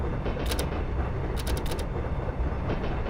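Rhythmic clicking of train wheels passing over rail joints on a San Francisco to Sacramento interurban service in Train Simulator Classic. The bright clicks come in short bursts over a steady rumble, with no motor sound and no voices.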